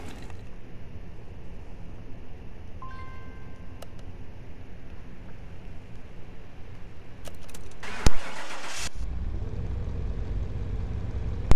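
A Camaro engine in Car Mechanic Simulator runs steadily on a dyno, a constant low mechanical drone throughout with a brief sharp burst of noise near the end.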